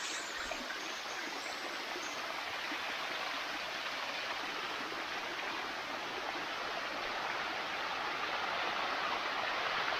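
Bua Tong Sticky Waterfall near Chiang Mai flows over limestone rock, a steady close rush of water with an even hiss that stays constant throughout.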